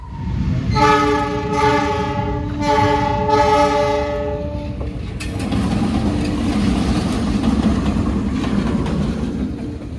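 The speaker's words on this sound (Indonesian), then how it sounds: "Tiba-tiba ada lokomotif 206 keluar dari Balai Asa Jogja." A diesel locomotive, a class 206 unit leaving the Yogyakarta railway workshop in Indonesia, sounds several loud, close, chord-like horn blasts and then rumbles past on the rails, with no voices.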